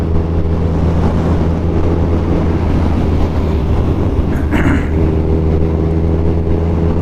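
A steady, loud Suzuki Hayabusa sport motorcycle engine drones with road and wind rumble throughout while riding at night in Dubai, one short brighter swish passing midway, no voices.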